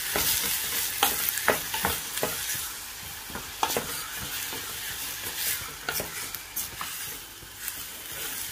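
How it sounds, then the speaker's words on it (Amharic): Chopped onion hits hot oil in a pan for Ethiopian pasta sauce with a steady, nearby sizzle, broken by repeated sharp scrapes and knocks of a stirring utensil every second or so, and no talking. "አሁን ልክ ትንሽ ጋለ ሲልልኝ የከተፍኩትን ሽንኩርት እጨምራለሁ።"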